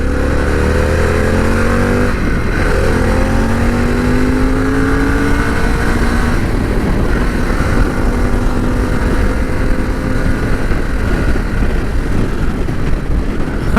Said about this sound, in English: this thing, it just flies